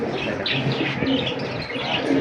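Green pigeons in a loft give soft, steady cooing mixed with faint chirps, continuing throughout without pause against a busy background.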